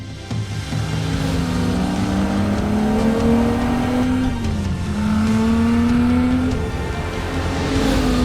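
1962 Ferrari 250 GT SWB driving hard, its engine revving and climbing in pitch through the gears with a brief dip at a shift, loud, close and sustained over road rumble.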